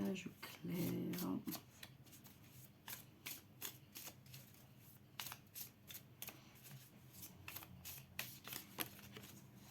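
Tarot cards are shuffled in quick, papery riffles and soft flicks that repeat irregularly across the stretch, close up and fairly quiet over a faint background hum.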